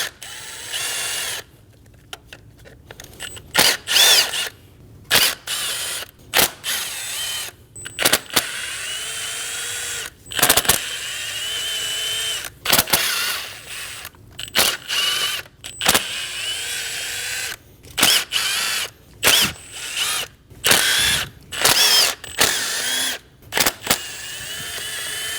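A power tool undoes valve cover bolts on a 2.5L five-cylinder Volkswagen Passat in many short whirring bursts separated by brief pauses, close and fairly loud, with no talking.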